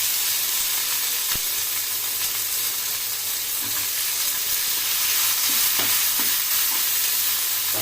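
Tomato sautéing in a pan on low heat for a Tamil home meal, giving a steady soft sizzle with faint stirring scrapes and a few clicks, close and continuous.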